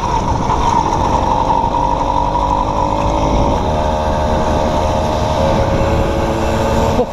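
A stock moped's small engine runs hard at steady high revs on a New Year's ride reaching about 70 km/h, a loud continuous buzz with wind noise close to the rider.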